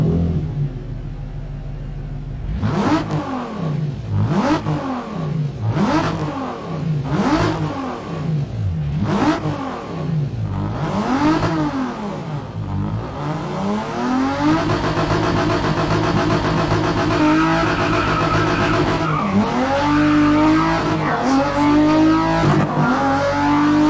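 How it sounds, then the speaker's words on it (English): A Nissan 350Z's VQ engine in the racing game GRID (2019) revs repeatedly in sharp, evenly spaced blips, then holds a sustained rising drone as the car accelerates, loud and close with no talk. "Take a listen to the VQ motor on this 350Z."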